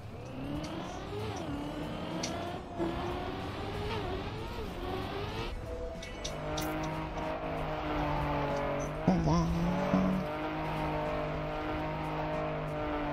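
A new rally car from Trackmania driving at speed, its engine droning and shifting pitch as it revs and accelerates, with a brief tire squeal partway through. The sound is steady, close and loud, and someone talks over it.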